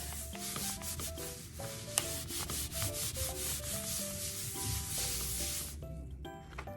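Paper is rubbed by hand over a botanical print to transfer it without a press, giving continuous close scratchy rubbing strokes in a quick irregular rhythm, stopping shortly before the end.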